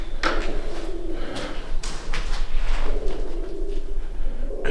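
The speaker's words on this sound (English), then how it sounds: "Yeah, it's birds." Pigeons or doves cooing inside an abandoned mansion, soft low coos repeating over a dim echoing background with scattered rustles and knocks, no one speaking.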